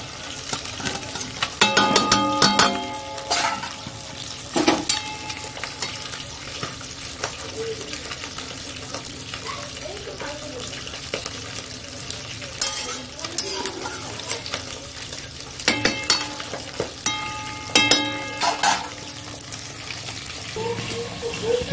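Bhetki fish pieces go into a hot pan of oil for a Bengali fish curry, giving a steady close sizzle with metal utensil clinks and scrapes in a few bursts.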